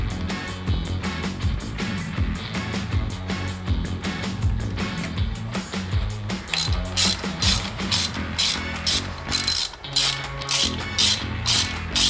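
A hand ratchet tightens clutch basket bolts during a motorcycle clutch rebuild, close and clear. The rapid pawl clicks come in repeated bursts that grow crisper and more distinct toward the end, with no voices.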